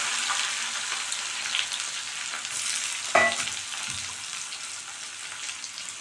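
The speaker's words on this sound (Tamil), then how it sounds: "அதே ஆயிலில் இப்போ குழம்பு தாளிச்சிக்கலாம். கடுகு, உளுத்தம் பருப்பு" Mustard seeds and urad dal sizzle in hot oil for a tempering, a continuous crackling fry with a sharp pop or clatter partway through, fairly close and with no talk.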